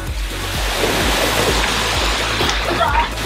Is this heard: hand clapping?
no